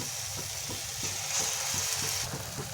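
Ridge gourd bhaji fry in hot oil, giving a steady close sizzle with bubbling and faint rhythmic stirring or scraping pulses throughout.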